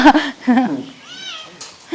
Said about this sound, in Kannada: ಇದು ನಮ್ಮ ಬೆಕ್ಕಿನ ಮರಿಗಳು